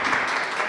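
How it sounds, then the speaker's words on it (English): Brief burst of audience applause at a festivals masterclass session, dense clapping heard close and continuous. "A round of applause to Nobesu, to our facilitator."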